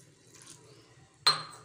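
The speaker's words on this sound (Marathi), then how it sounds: "आता इथे मी थोडं पाणी ॲड करत आहे" A quiet stretch of faint kitchen noise, then a sudden short splash of water poured into a bowl near the end.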